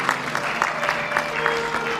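An audience claps in rhythmic unison at a devotional Ram Charit Manas recitation, a steady beat of loud, close claps lasting about two seconds.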